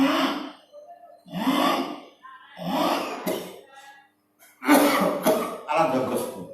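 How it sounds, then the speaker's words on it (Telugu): Coughing during pranayama breathing practice, several loud, harsh bursts in clusters, separated by short pauses. "అలా దగ్గు వస్తుంది"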